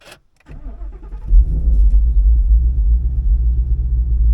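A Ford Mustang GT convertible V8 engine cranks and fires up, then settles into a deep, loud, rumbling idle close by.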